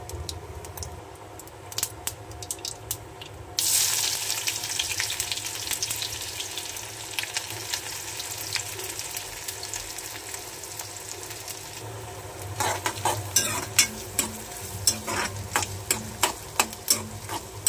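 Chopped onion goes into hot oil already sizzling with cumin seeds, giving a steady close crackle that swells abruptly and grows louder and more popping toward the end, with occasional clicks of stirring.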